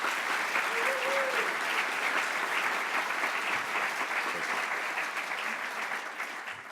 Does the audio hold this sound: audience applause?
yes